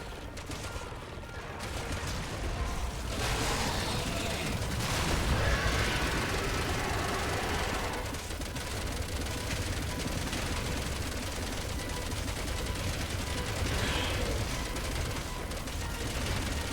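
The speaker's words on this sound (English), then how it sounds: "We probably fired a quantity of lead that weighs more than the entire helicopter that we're flying." Sustained helicopter gunfire from Resident Evil 6 plays as a dense, continuous rattling barrage over a loud engine roar, steady throughout with no pauses and no speech.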